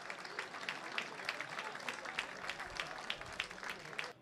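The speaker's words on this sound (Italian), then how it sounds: "giustamente tributa un applauso al classe 98 Gabriele Cavalieri" Faint applause from a distant crowd at a football match, steady scattered clapping with a soft background murmur throughout.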